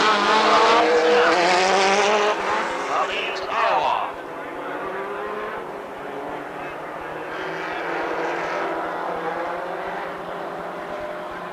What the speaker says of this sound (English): Another 8-lap heat race for the dwarf cars.